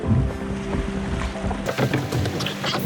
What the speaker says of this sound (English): So we're going to put the boat in